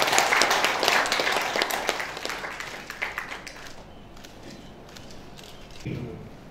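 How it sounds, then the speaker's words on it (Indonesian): Audience applause at a handover ceremony for the Regent of Kediri, dense clapping loud at first and then thinning and fading, with a brief renewed burst near the end. "Boleh berikan tepuk tangan yang luar biasa"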